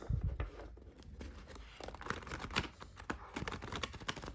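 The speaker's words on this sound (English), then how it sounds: "let's give this special Tarot de Marseille its first shuffle" Riffle shuffle of a Tarot de Marseille deck, cards gently riffled through the corners, heard as a quiet, close flutter of crisp card snaps in bursts with soft handling noise between.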